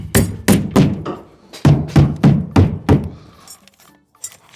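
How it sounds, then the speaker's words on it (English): Hammer strikes drive a nail through a brick tie into a wall stud during a stone veneer install: about nine sharp, close thuds in two quick bursts, then a couple of lighter taps. "you want to nail this brick tie right in the studs, not into the plywood."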